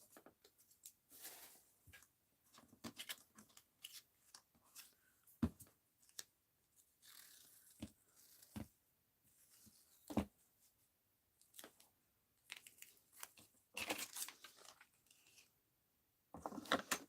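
Scissors fussy cut around shapes in paper for a mixed-media art journal, with soft, irregular snips and rustles scattered close by over a near-silent background.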